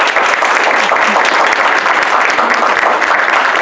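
Audience applause following an academic keynote on the (non)human question at a university, a steady dense wash of clapping from a large crowd that holds evenly throughout, with no voices on top.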